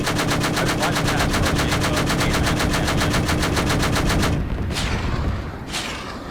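Aircraft cannon from a flight combat video game fires in a long, rapid, steady burst, then stops, followed by two whooshing rocket launches, loud and close.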